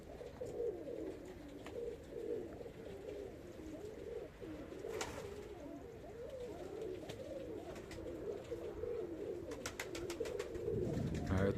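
A loft full of excited spring pigeons coos continuously, a dense, overlapping, hive-like rumble of many birds with occasional wing flaps and clicks.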